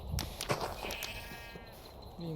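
A Minecraft sheep bleats in a couple of short, faint cries amid game sounds and background clatter.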